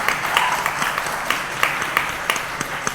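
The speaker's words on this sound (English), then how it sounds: "I saw some people clapping their hands" An audience at a peace event clapping hands, a steady patter of claps with sharper individual hits spread through the room, moderately loud and without speech.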